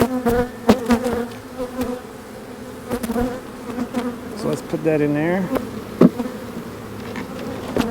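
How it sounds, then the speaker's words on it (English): Honey bees buzz steadily around an open hive full of pollen and nectar during a swarm transfer outdoors, a close, busy hum with occasional louder passes as bees fly near, while someone talks briefly over it. "A lot of pollen, a lot of bees"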